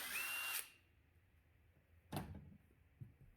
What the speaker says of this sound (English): Then you get you a T30 Torx bit. Take them out of your coil pack.